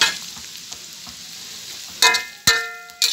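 Holy basil pork with lots of garlic and dried bird's eye chilies stir-fried in a hot wok, a steady close sizzle broken near the end by three sharp metallic spatula scrapes.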